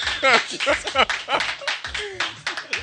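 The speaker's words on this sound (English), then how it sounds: "They're clapping." Scattered audience clapping in a talk setting, irregular sharp claps close by mingled with chuckles and speaking voices, uneven rather than a full ovation.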